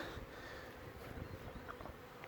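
A dense, steady buzzing of many bees around a hive built from a shoe cabinet fills the air, faint and continuous, with no talking.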